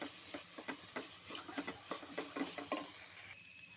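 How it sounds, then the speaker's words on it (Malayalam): Onions sautéing in a pan for Kerala-style beef, with a spoon stirring in a steady rhythm of scrapes and soft clinks over a faint, continuous sizzle, close and quiet. "ഇനി നമുക്ക് നന്നായിട്ട് വാട്ടി കൊടുക്കാം"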